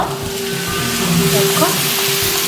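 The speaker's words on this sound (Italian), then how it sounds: "A questo punto aggiungiamo la polpa di pomodoro" Tomato pulp poured into goulash sizzling in a hot pan, a steady broadband frying hiss with a brief bubbling splutter partway through, close and fairly loud with no talk.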